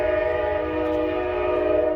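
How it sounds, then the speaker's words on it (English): A train passes nearby, its horn sounding a loud, sustained multi-tone blast that holds steady throughout over a low rumble. "Excuse the train."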